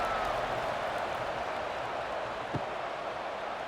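Steady stadium crowd buzz from a College Football 26 game between Southern Mississippi and SMU, a broad continuous roar with faint scattered clapping, holding at an even level throughout with no talk on top.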